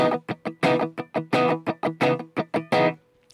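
A distorted electric guitar is strummed in a tight rhythmic pattern of about a dozen loud, driven chord hits, some choked short, before ringing out briefly and stopping.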